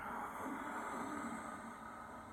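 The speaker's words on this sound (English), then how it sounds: "That soft, silky, whistling, ujjayi breath, victorious breath, seashore breathing" Continuous airy ujjayi throat breathing through the nose with a gentle whistle, a smooth, even hiss like distant surf, held without pause.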